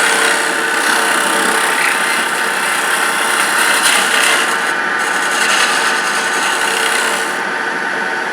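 A carbide detail tool cuts a small wooden Christmas tree spinning on a lathe, giving a steady, loud continuous scraping rasp over a constant motor hum, held for the whole stretch without pause.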